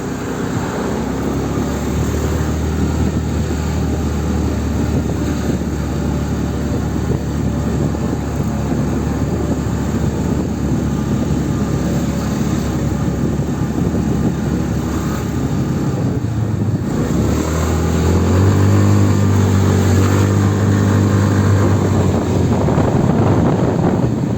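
An RKS Newlight 125 motorcycle rides along a road, its engine a steady continuous drone mixed with rushing wind noise across the whole stretch, with the engine note rising and shifting near the end.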